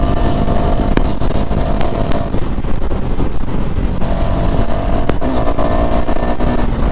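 A Kawasaki ZX10R superbike racing a 250 motorcycle, heard as a loud, continuous engine roar with steady revving throughout, close by, with no talking.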